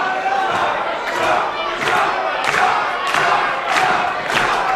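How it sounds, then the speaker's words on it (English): A wrestling crowd at an anniversary event roars and cheers for Bob Holly during his match against Brock Hall, with loud, sustained rising chants and rhythmic surges of yelling from a large audience. "the crowd's getting behind Bob Holly here"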